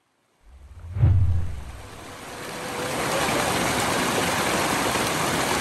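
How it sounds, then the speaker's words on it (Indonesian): A waterfall and flowing river stream at Sungai Pisang in Gombak, a steady broad rush of water that swells in after a brief low thump and holds at moderate distance. "Haa tu, air terjun nampak tu."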